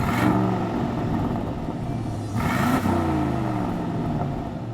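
An Aston Martin DBX's twin-turbo V8 revs and growls, a deep engine note swelling, easing off, then rising again in a second surge before settling, heard alone without talk.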